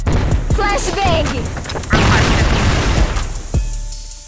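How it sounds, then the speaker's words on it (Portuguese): A flashbang grenade bursts in a Brazilian team shooter match, a sharp loud bang at about two seconds followed by a ringing, noisy wash, with other game blasts and thumps around it and voices talking. "Flashbang!"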